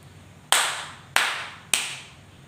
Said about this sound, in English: Clap your hands 3 times if you are ready.